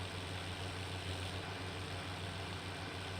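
A 90 horsepower tractor idles in Farming Simulator 17 with a steady, low engine hum and no changes in rhythm, moderately quiet throughout.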